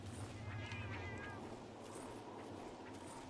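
Cat meowing in Monster Hunter Generations Ultimate, a few drawn-out, wavering meows early on over a low game background hum, fairly quiet and without speech.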